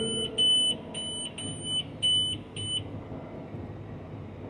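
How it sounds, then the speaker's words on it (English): Farm equipment monitors beeping in a tractor cab during a potato harvest, a repeated series of short high electronic beeps in an even rhythm over a steady low engine rumble. "Everything's beeping at me."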